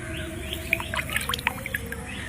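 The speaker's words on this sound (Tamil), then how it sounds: "இங்கே நல்லா கவனித்து பார்த்தீங்கன்னா பறவைகளோட சவுண்டெல்லாம் நல்லாவே கேட்கும்" Several small birds chirp and twitter in short bright calls near a quiet road, the notes scattered irregularly over a low steady background rumble.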